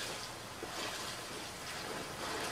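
Water pouring and flowing through a sewer in The Last of Us Part I, a broad, even rushing wash like a small waterfall, steady and moderately quiet with no talking.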